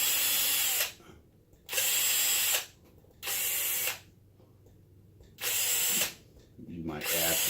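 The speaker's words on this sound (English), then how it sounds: "I've got a drill bit here with a real tiny bit on it" A small drill with a tiny bit bores little holes in a foam model plane's motor mount area, four loud broadband bursts of about a second each separated by short quiet gaps, close up with no talk.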